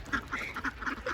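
Ducks quack noisily at Dal Lake, a rapid run of several nasal calls overlapping one another, fairly close and loud with no talking.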